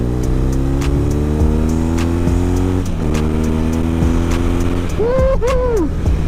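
A heavy police motorcycle of about 260 kg revs and pulls while being ridden, a loud continuous engine drone with shifting pitch and a rising rev burst near the end, with a rider's voice over it.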